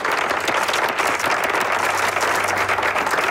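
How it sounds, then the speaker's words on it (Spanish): Sustained audience applause at a conference session, dense and steady throughout with no break, a full room clapping together. "Un aplauso"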